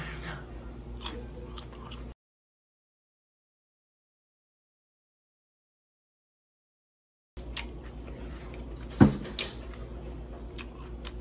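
Close, soft chewing and crunching of sticky Bahri dates, interrupted by a stretch of silence, with one sharp click near the end.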